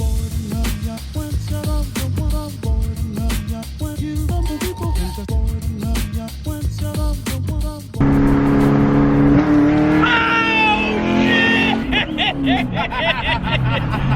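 A fast car accelerates hard during a ride, its engine roaring and revving up close from inside; partway through, the sound shifts and excited voices laugh and talk over the engine.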